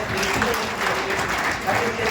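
A crowd at a community get-together applauding, a continuous wash of clapping that holds steady throughout, with voices mixed in.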